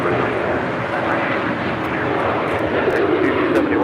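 An American Airlines jet takes off from runway 25 right at LAX in calm wind, its engines a loud, steady broadband roar that fills the whole stretch without a break.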